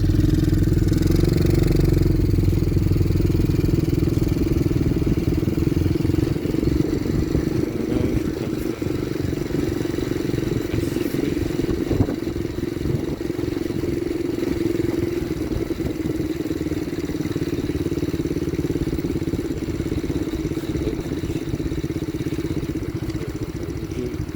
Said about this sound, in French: Petite Ferrari, ralenti.